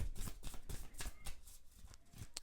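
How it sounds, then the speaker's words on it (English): A tarot deck being shuffled by hand, with quick, rapid riffling flutters and soft card slaps repeating in an uneven rhythm, close and fairly loud with no talk. "why is your cards letting me shuffle that much?"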